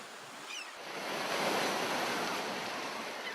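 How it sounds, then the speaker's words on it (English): Sea waves surge and wash steadily from a soundtrack by Abbas Kiarostami, a broad roar of surf building after a quieter start and holding loud, with some wind noise and no voices. "But the waves return to gulp down the last remaining"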